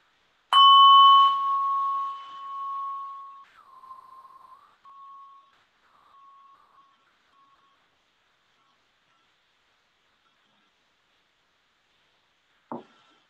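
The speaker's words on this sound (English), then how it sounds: "So I will ring us in and I will ring us out with this little bell." A small meditation bell is struck once at the start of a guided meditation, its clear ringing tone sustaining and slowly fading to silence over several seconds, with a faint soft tap near the end.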